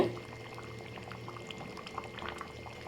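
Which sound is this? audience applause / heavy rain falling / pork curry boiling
pork curry boiling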